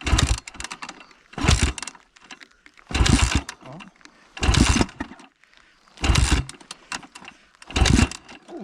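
A two-stroke 300 motorcycle engine catches after a kick start, firing in six loud, evenly spaced bursts with short quiet gaps between them, close to the microphone.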